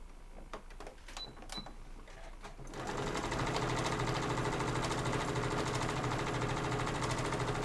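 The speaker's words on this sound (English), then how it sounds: "So I'm going to take these 2 pieces, pretty sides facing each other, and I'm going to sew across." A sewing machine stitches two fabric pieces of a cross body bag together. A few soft clicks and taps come first, then the motor starts and runs in a steady, close, rhythmic whir to the end.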